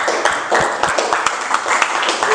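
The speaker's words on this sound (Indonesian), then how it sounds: "Ayo beri tepuk tangan untuk kelompoknya Raden Ajeng Kartini." Students in a classroom clap for a group presenting a lesson on lever types, a short burst of scattered, uneven hand claps at close range with no talking over it.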